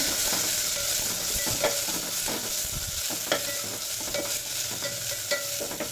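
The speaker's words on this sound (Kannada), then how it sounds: "ಸ್ವಲ್ಪ ಪುದೀನ ಸೊಪ್ಪು ಕೊತ್ತಂಬರಿ ಸೊಪ್ಪು ಹಾಗೆ ಒಂದು ಸ್ವಲ್ಪ ಕರಿಬೇವು ಇದನ್ನೆಲ್ಲ ಸ್ವಲ್ಪ ಚೆನ್ನಾಗಿ ಎಣ್ಣೆಯಲ್ಲಿ ಫ್ರೈ ಮಾಡ್ಕೋಬೇಕು" Mint, coriander and curry leaves stirred and frying in oil: a steady close sizzle with repeated scraping stirs and light clinks of a utensil against the pan, and no one talking.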